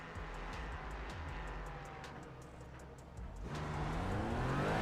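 A race car engine in the iRacing sim at Indianapolis drones steadily and close, then the revs climb in a rising whine over the final seconds.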